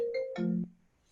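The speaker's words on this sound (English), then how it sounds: "That was my phone." A phone ringtone sounds briefly during an online discussion, a short electronic melody of a few clear tones stepping downward, loud and close, then stopping abruptly into near silence.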